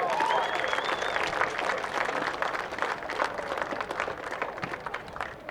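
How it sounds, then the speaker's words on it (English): Sustained applause from a crowd at a women's football grand final medal presentation, dense steady clapping close by throughout, with a few faint voices and whistles mixed in. "Big round of applause to Peter and to Optus"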